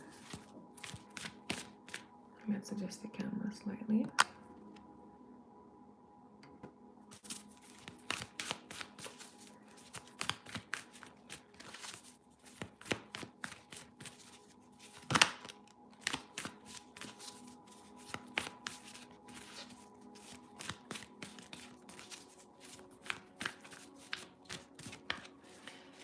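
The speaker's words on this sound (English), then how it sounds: "So just bear with me whilst I'm shuffling." Tarot cards are shuffled by hand in repeated crisp riffles and taps, close and fairly quiet, with a short spoken remark early on.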